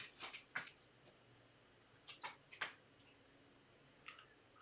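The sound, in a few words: dog whimpering for breakfast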